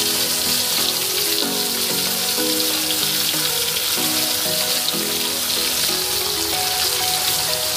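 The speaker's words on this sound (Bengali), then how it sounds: "তারপরে একটু 10 সেকেন্ড পরে ছেড়ে দিলাম পেঁয়াজ কুচিয়ে রেখেছিলাম, সেই পেঁয়াজটা এখানে ছেড়ে দেওয়া হচ্ছে" Chopped onion dropped into hot oil already tempered with cumin and bay leaf, giving a steady, loud, dense sizzle that runs unbroken throughout, with faint tonal music beneath it.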